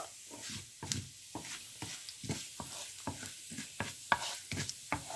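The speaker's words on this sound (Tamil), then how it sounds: "இவ்வளத்தையும் கொஞ்சம் லைட் ப்ரௌன் கலர் வரும் வரையும் இதை நீங்கள் எண்ணெயில் கொஞ்சம் தாளிங்கோ." Urad dal and spices temper in hot oil until light brown, a soft sizzle broken by frequent sharp taps and scrapes from a spoon stirring the pan, close and fairly quiet.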